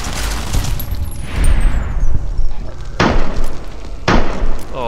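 Gunfire and impacts from the modded video game Fallout: New Vegas, loud bursts and sharp cracks spread across several seconds, with two hard shots standing out near the end.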